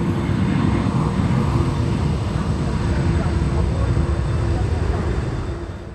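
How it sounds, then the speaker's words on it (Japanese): A Peach Aviation Airbus A320 taking off from Kansai airport, a steady broad jet roar with a low rumble that holds loud and even before easing slightly at the end, heard under a news narrator's voice. "目的地の新千歳へ向けおよそ170名の乗客を乗せ離陸しました"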